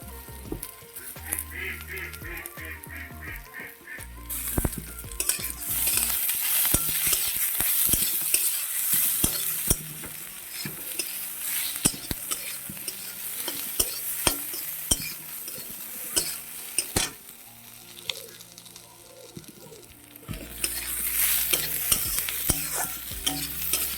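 Onion, ginger and green chillies fry in a pan for a cauliflower and egg dish while a utensil scrapes and clatters against the metal in a fast stirring rhythm over a steady close sizzle, with no talking.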